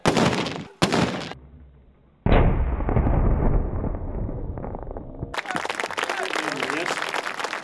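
A single loud blast from an Armed Forces Day sunset military ceremony bursts out and rumbles away over several seconds, with people talking nearby before and after it.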